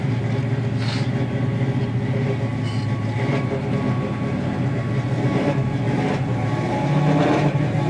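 A 1972 Chevy Nova engine running at a steady idle, a continuous low rumble with a deep even drone, close and fairly loud, with no talk.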